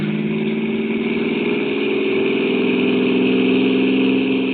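A car engine accelerates in a rainy radio-drama scene, a steady, loud droning growl whose pitch climbs gradually over a few seconds with no voices over it.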